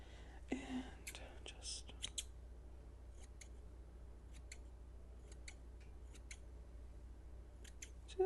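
Scissors snip real hair close to the ear during a relaxed haircut, with a series of crisp, quiet cuts in small clusters over a low background hum and a soft whispered voice near the start.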